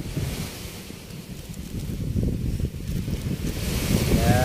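Sea waves wash onto a beach at Pasulok Beach in Ragay, Camarines Sur, a rumbling surf under heavy wind buffeting the microphone, building gradually louder.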